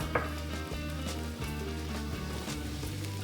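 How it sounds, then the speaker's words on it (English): Minced garlic sautes over medium heat in a pan for Korean fried chicken, giving a steady, close sizzle with occasional utensil clinks beneath a low, stepped tonal backdrop like background music. "And we're going to put in our garlic, mixed garlic. We're going to saute this until it's nice and fragrant"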